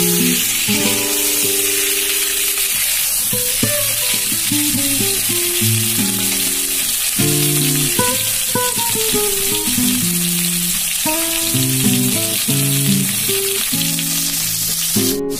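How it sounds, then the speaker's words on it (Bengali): Potatoes and green chilies hiss and sizzle loudly in hot oil, with bitter gourd and rohu fish curry nearby. A spoon scrapes and clinks irregularly against the pan as everything is stirred, and no one speaks. "আলুগুলো সাথে দিয়ে দিলাম, কাঁচা লঙ্কাগুলো দিয়ে দেবো, দিয়ে ভালো করে নাড়াচাড়া করবো।"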